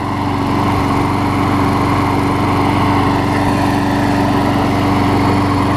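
A Briggs and Stratton Quantum push mower engine runs steadily at a constant throttle, with a loud, close, even drone and a buzzing low rumble and no talking.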